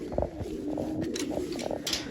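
Village pigeons coo on a rainy day, a few soft, rolling calls repeating close by over a faint wet background hiss.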